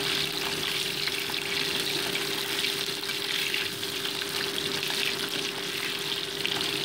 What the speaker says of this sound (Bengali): তো মাছগুলোকে উল্টে পাল্টে আমি ভেজে নিচ্ছি।